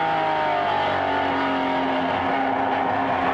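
Race cars, a Corvette and a 1970 Datsun 240Z among them, roar past close by on a track at a vintage reunion race, engines droning loud and steady with a falling pitch as they go by.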